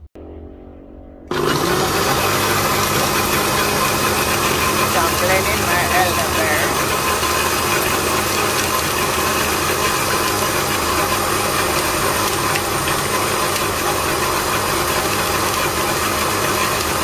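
A kitchen blender switches on abruptly after a quiet moment and runs at a steady, loud whir for the rest of the time while blending an elderberry drink.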